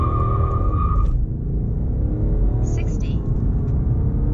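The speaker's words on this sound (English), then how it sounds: "press the accelerator hard with the right foot, and then you will see launch control activate" A BMW 530d G30/G31 launches hard from launch control, its engine a loud, rumbling drone that rises steadily as the car accelerates.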